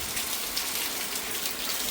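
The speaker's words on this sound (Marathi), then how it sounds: "बाहेर तो सुरू झाला पाऊस" Heavy rain pours down onto a village road in a dense, continuous hiss of drops with no break and no voices.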